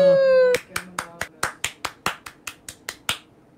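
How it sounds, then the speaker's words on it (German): A voice trails off, then a group claps in a steady rhythm, about a dozen crisp, evenly spaced claps that fade out. "Einen Applaus, danke, bitte."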